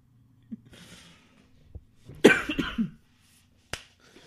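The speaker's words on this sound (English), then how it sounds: "I was just coughing because I held my breath for too long" A person coughs in a short burst around the middle, preceded by a few small breathy sounds and followed by a single sharp click-like noise, at close range in an otherwise quiet room.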